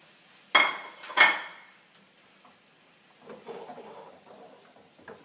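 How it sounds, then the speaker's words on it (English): Shrimp tipped back into a hot pan with their juices, two sharp clatters of food and utensil against the pan followed by a soft, quieter sizzle of cooking. "we're going to add the shrimp back in with whatever juices were there from before"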